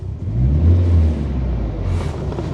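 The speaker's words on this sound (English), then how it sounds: "A pretty smooth 4-cylinder engine." A Mitsubishi 1.5-litre four-cylinder engine idles nearby in a steady low rumble, smooth and even, with a slight swell in the middle and no talking.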